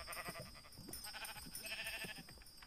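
Faint, repeated bleating of a Minecraft sheep over a thin electronic background hum, several short wavering calls in a row.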